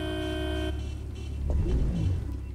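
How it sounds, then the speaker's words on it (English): A car horn in The Crew 2 racing game sounds a steady held tone at moderate loudness over a low engine drone, then cuts off, leaving rumbling engine noise and road sounds. "That's a special honk"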